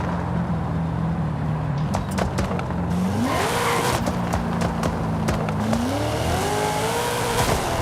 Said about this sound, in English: Let's listen to that anti-lag.